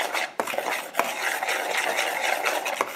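Dry brownie ingredients, including cocoa powder, are stirred together in a bowl, giving soft scraping and swishing strokes with a few light taps against the bowl, close and alone.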